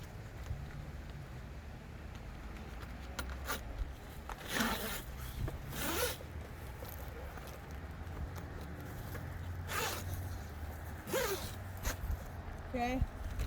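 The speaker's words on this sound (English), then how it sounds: "you can zip your panel on." Several quick zipper runs as a cab enclosure panel is zipped onto a 2021 Yamaha Wolverine RMAX4, sharp rasping strokes spaced across the clip, the last in fast short bursts, with a person talking quietly between them.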